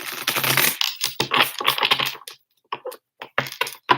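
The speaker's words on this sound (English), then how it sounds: "I'm going to get some shuffling going because we're going to get started on the reading." Tarot cards are shuffled in quick papery riffles and taps, coming in clustered bursts with short gaps between them, close and fairly crisp.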